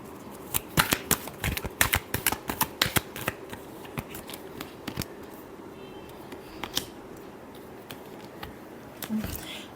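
Tarot cards are shuffled by hand in quick bursts of riffling and snapping slaps, close and crisp, thinning out to a few scattered flicks and taps toward the end.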